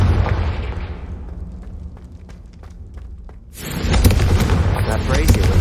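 A Confringo blasting spell from Hogwarts Legacy bursts against a brazier with a sudden loud boom and crackling roar that stays full and sustained after a quieter stretch of game ambience.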